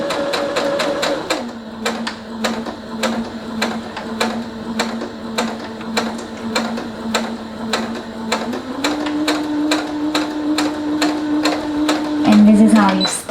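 A Brother SE625 sewing machine stitching, with rapid even needle clatter and a steady motor whine that changes pitch as the speed is raised and lowered, running continuously near and loud before slowing at the end.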